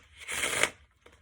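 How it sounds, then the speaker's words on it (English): A deck of playing cards is shuffled during a magic card trick on a talent show: one quick riffle lasting about half a second, close and isolated, with a faint tap just after. "Now we can shuffle."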